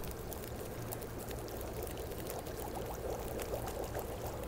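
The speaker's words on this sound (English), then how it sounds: "You can melt some snow." Steady, pouring, water-like hiss as snow melts into water in the survival video game The Long Dark, continuous and soft with no voices.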